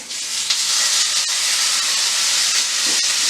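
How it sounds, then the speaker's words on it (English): A steak sears in extra virgin olive oil in a pan, giving a loud, continuous sizzling hiss up close with only slight shifts in intensity. "we're now searing the steak"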